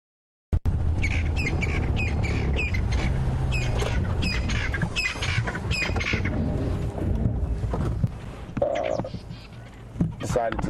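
Crested francolins call loudly beside a road on a safari drive, their harsh repeated squawking phrases coming in rapid series, close and dominant over vehicle background noise.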